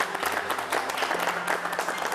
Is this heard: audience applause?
yes